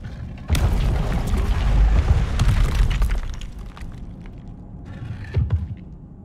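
Incendio fire spell cast in the video game Hogwarts Legacy, a sudden loud whoosh and booming roar of flame that holds for a few seconds and then fades, with a smaller flare near the end.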